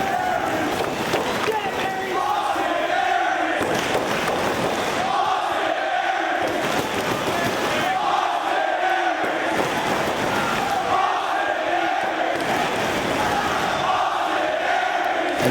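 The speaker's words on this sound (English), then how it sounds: "And listen to this crowd, their appreciation for one half of the ROH Tag Team Champs." A wrestling arena crowd cheers loudly and continuously, with a dense roar of voices that swells in waves throughout.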